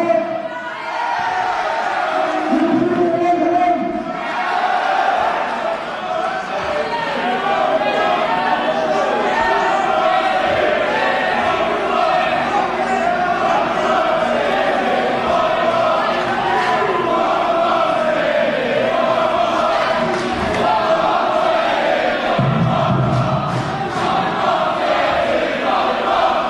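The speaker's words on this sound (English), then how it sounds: "This crowd." Loud wrestling crowd roars, cheers and shouts without a break at an indoor independent wrestling match, a dense wall of voices that holds steady with a few sharper yells and whoops rising above it.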